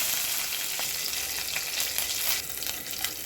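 Curry leaves and mustard seeds frying in hot oil for a cabbage kootu give a steady, close sizzle with scattered small pops and crackles throughout, no voices.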